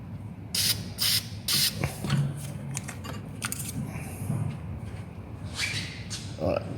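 An aerosol can sprays beneath a Renault Clio during a DIY brake pad replacement. Three short hissing bursts come close together near the start, then lighter clicks and metallic clinks follow.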